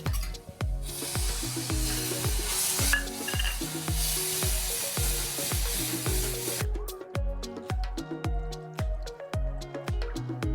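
Garlic chutney sizzles steadily in a pan on a very low flame as two spoons of yogurt go in, a continuous fry hiss broken by rhythmic scraping strokes of a spoon.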